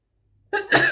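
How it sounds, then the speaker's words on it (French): A single sneeze, a short sharp inhale-then-burst, loud and close after a moment of silence. "Attendez, je vais éternuer."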